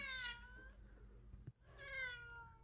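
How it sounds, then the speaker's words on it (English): Two clear, drawn-out cat meows, close and fairly quiet, separated by a brief pause with a soft thump between them. "we decided to record her meowing and put it in one of them"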